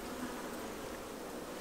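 Honeybees hum in a hive as frames are worked during swarm-cell checks, a dense steady buzz heard close and continuous with no talking.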